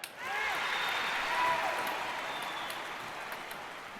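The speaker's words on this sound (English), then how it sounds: "The crowd go wild and they respond." Stadium crowd applauding and cheering in a London 2012 Olympics sports video game, a broad steady roar of clapping that swells in the first half-second, holds, then slowly eases off, with faint whistles above it.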